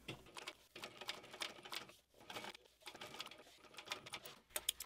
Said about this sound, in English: I'm going to be top stitching this pocket onto the lining piece.